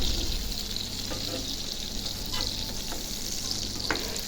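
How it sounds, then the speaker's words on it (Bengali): Eggplant slices frying in oil in a pan, a continuous close sizzle and crackle with occasional sharper pops, steady and fairly loud with no talking. "এভাবে দুই তিনটা উল্টে উল্টে দিয়ে তারপরে আমি ভাজবো"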